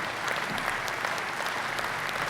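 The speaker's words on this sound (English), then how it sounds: "let's have a big round of applause for your newly elected National Vice Commanders" An audience applauds newly elected National Vice Commanders with brisk, even clapping that carries on for the whole moment.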